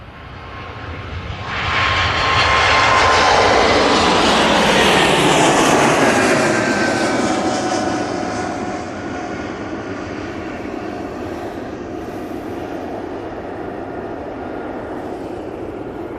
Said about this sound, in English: Air France A380 off to Paris Charles de Gaulle Airport.